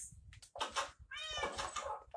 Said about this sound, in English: this is my cat, Tyra.